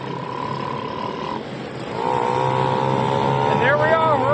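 A two-stroke motorized bicycle engine pulls away as the rider pedals and opens the throttle, its buzzing drone rising and holding steady up close, with a voice talking over it.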